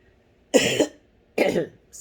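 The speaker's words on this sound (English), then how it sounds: "I got a little bit of a cough" Two close, harsh coughs in a row, separated by a brief pause, with a third starting at the end.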